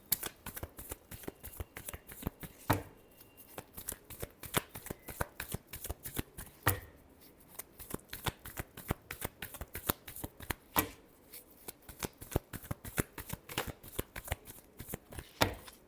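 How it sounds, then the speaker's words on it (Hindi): Tarot cards are shuffled rapidly and continuously up close, a dense run of crisp riffling flicks and slaps with short pauses between rounds, no voices over them. "Last shuffle."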